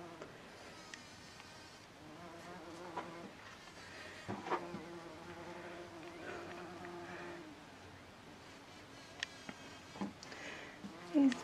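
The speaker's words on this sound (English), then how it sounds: "He's being very busy, little bee" A bee buzzing among Castelluto and Roma tomato plants in a garden bed, a soft steady drone that rises and fades as it moves close and away, with occasional light rustles and taps.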